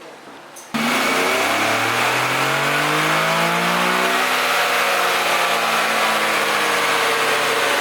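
An Infiniti G37x engine on a dyno roars loud and close through a full pull, its pitch rising steadily from a lower idle as the revs climb.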